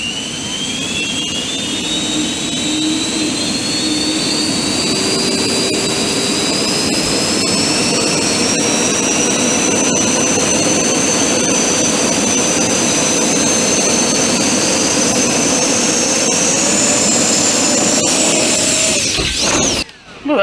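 A 3D-printed quadcopter driven by electric ducted fans spins up to a loud, steady jet-like whine with a broadband rush, holding high for about twenty seconds before cutting off abruptly.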